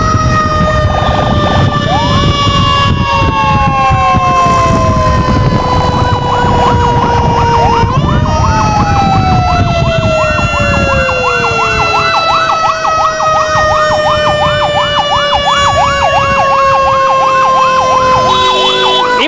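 Loud wailing ambulance siren on an urgent run through city streets, continuous rising and falling sweeps with a switch to a faster yelp pattern partway through, steady heavy engine rumble underneath.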